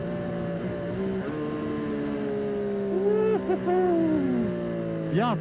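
A Triumph Street Triple 765 RS motorcycle in track mode pulls hard with a rising engine whine, dips and climbs again through several quick gear shifts, and ends on a sharp rev near the end.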